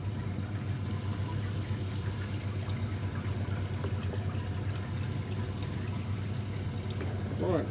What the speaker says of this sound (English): And just sparging away there,